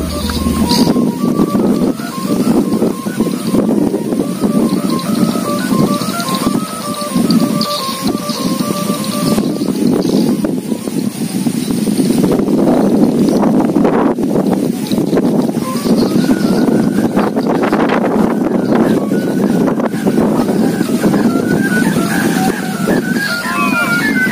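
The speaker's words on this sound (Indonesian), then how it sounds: "Kencang sekali angin. Kencang sekali." Strong monsoon wind blows during a kite flying test, a loud, gusty roar buffeting the microphone with steady rumble and shifting intensity, with a humming kite tone above and no talk.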